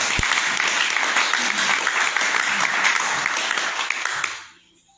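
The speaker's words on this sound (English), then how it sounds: "So we want to give you applause." A crowd at a museum appreciation event for Memphis musicians claps loudly and evenly for about four seconds before the sound drops away quickly to near silence.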